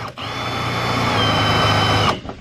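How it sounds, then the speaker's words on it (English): A power drill bores into the thick metal of a Crown Victoria's trunk during a spoiler fitting, a steady loud whine with a low motor drone running continuously for about two seconds before cutting off. "You're drilling into something pretty thick."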